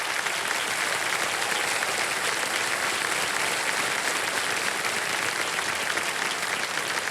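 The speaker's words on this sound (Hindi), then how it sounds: "कृष्णा जी के लिए जोरदार ताली बज जाए" A studio audience on a quiz show applauds, a dense, steady wall of clapping that holds at an even level throughout.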